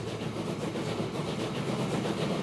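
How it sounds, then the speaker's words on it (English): A train pulls out of the depot in Transport Fever 2, giving a steady low rumble and rolling clatter that holds at an even level throughout, with no talking. "So this is our first train. It's heading out from the depot."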